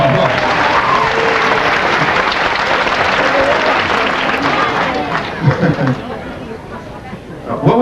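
An audience breaks into loud, sustained applause, dense clapping that thins toward the end, with voices and crowd chatter mixed in.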